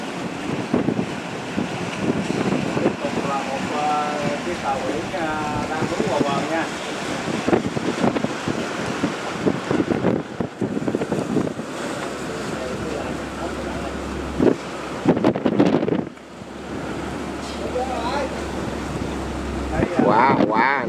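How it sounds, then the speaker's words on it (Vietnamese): A fishing boat out at sea during a storm, with strong gusting wind buffeting the microphone and waves rolling and splashing throughout, loud and rough. "Những con thuyền nào mà ở ngoài biển này hiện tại giờ thì đang chạy trái vô nha, để núp sóng và núp gió."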